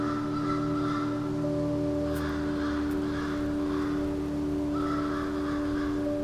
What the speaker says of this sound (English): following the sound of the crow